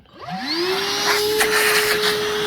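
A Bauer 20V cordless vacuum cleaner spins up from a brief rising whine to a steady, loud, high-pitched motor hum that holds close and alone.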